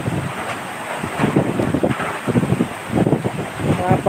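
Strong wind from Typhoon Odette buffeting the microphone in loud, gusting rushes and rumbles, with a person talking over it.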